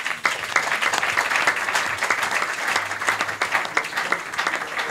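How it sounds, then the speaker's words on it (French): An audience applauds to welcome a union trainer at a teachers' union gathering, a steady, dense wash of many hands clapping that holds at a constant level throughout, with no voices rising above it. "je voudrais que nous puissions le saluer par nos acclamations"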